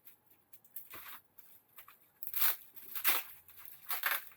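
Parcel from a model shop being unpacked nearby, with bursts of tearing and crinkling packaging and paper rustles coming in short, irregular handling sounds, quiet with no voices.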